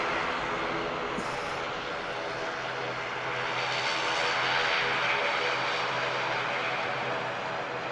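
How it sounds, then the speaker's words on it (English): A TUI Boeing Dreamliner comes in to land at Manchester Airport, its engines a broad, steady roar that swells slightly midway and stays loud and distant-sounding throughout, with no talking. "we've got a TUI Dreamliner, which is number 2 to land after the Saudi"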